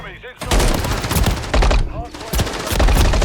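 Bursts of automatic gunfire from the Modern Warfare 3 video game in a ranked Hardpoint match, with rapid loud volleys and short gaps between them.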